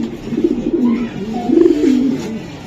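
A racer pigeon coos up close in low, warbling, bubbling phrases that swell twice, loud and clear with no voices over it.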